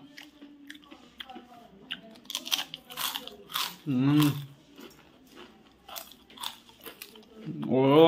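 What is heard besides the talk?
biting and chewing crunchy rashi papad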